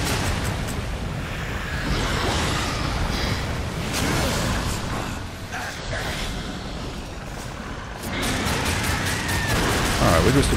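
Gunfire finishing off a boss in the video game Darksiders 2, dense rapid shots and booming impacts layered over game sound effects, loud and continuous.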